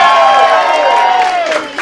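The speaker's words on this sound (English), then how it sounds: "I think you deserve a cheer" A cabaret audience at a Don't Tell Mama show in New York cheers loudly and continuously for nearly two seconds, a dense wash of many voices with whoops rising above it.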